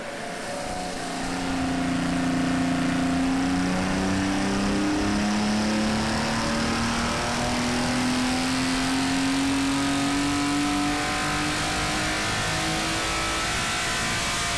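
A Porsche 964 with a 3.8 liter engine built with 102 mm pistons and cylinders pulls steadily. Its clear, mid-pitched drone rises slowly and evenly, loud and alone without voices.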